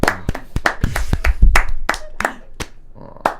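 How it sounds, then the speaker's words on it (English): Sharp, separate handclaps, about a dozen in an uneven rhythm, loud and close in a room, fading toward the end. "All but you are clapping."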